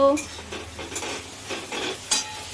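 Yam curry being stirred in a pot in a home kitchen, with scraping and clinking of a utensil against the pot over a soft sizzle, several separate stirring strokes, moderately close.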